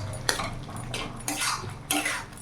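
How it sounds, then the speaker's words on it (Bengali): A spatula presses and mashes boiled papaya and potato curry in a pan, with three separate scraping knocks against the metal, spaced about a second apart, close and fairly quiet. "একটু এইভাবে খুন্তিতে করে চেপে চেপে দেবো"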